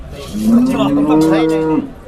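A cow moos loudly and close at a cattle market, one long drawn-out call with a few faint background sounds and no talk.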